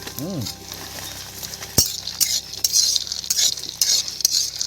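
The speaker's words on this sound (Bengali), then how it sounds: "এবার বন্ধুরা এটাকে নাড়তে হবে, আর বাদাম ভাজতে বেশিক্ষণ টাইম লাগে না।" Peanuts roasting in a pan are stirred, giving scraping, rattling clinks of utensil and nuts against the metal over a soft sizzle, with a sharp knock partway through.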